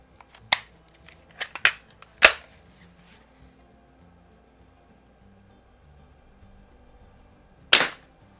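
Sears 799.1905 air rifle, a light plinking gun, fired at close range: several sharp snapping reports and small mechanical clicks spread across a few seconds, with one last crisp shot near the end.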